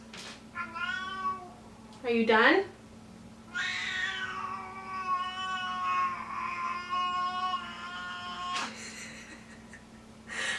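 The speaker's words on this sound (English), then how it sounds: "My cat is Siamese, so she is pretty loud." A Siamese cat yowls loudly and repeatedly, with long drawn-out meows and one sharp rising cry, close by while she uses a litter box; a voice briefly speaks between the calls.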